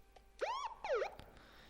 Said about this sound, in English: you may be able to hear the police siren